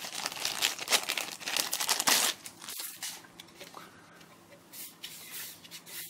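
Plastic bag crinkles and rustles in close, dense bursts while a Dark Movix Play media player is unpacked, then settles to quieter shuffling.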